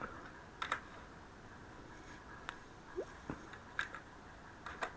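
Python code typed on a computer keyboard, scattered light key clicks in short bursts with pauses between, quiet and close in a still room.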